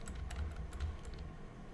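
Computer keyboard arrow keys tap during photo editing, a quick, close run of light clicks over a low steady hum.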